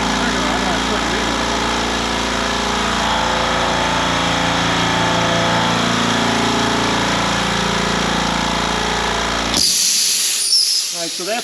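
An air compressor for a CNC build runs steadily and loudly, a dense mechanical drone with hissing, then cuts off abruptly near the end, leaving quiet with faint clicks.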